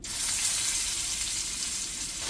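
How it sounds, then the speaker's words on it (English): Chuck roast beef sears in a hot pan with a steady, loud, close sizzle that holds evenly throughout, ending with a brief knock. "Once your meat is seared on all sides and it looks like this, go ahead and start throwing it into your pot."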